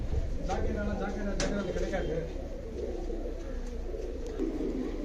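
Karna pigeons kept for sale in Tiruvannamalai coo softly in the background while someone talks over them.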